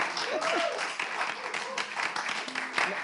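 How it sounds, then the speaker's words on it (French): Audience applause at a live show in a noisy venue, a steady wash of clapping lasting the whole moment with crowd murmur and voices mixed in. "On applaudit quand même."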